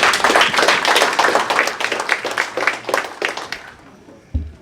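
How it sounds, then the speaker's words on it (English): Audience clapping at an Amnesty International USA conference panel in Las Vegas, a dense burst of many hands that tapers off toward the end, followed by a single thump. "Clap it up for our sister for a conference."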